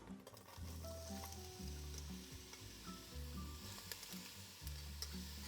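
One large diced onion sautés in two tablespoons of extra virgin olive oil in a Dutch oven, a steady close sizzle with soft stirring scrapes and brief pauses, no voices.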